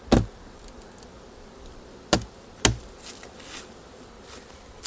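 Honey bees buzz steadily around a hive during a honey harvest by a treatment-free beekeeper. The soft, continuous hum is broken by a few sharp knocks and thumps nearby.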